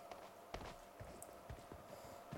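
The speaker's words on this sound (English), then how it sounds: "Like, okay, so I hear footsteps." Enemy footsteps in the mobile battle-royale game PUBG Mobile on the Sanhok map: a steady series of soft, muffled steps over a constant background hum, moderately distant, with no talking.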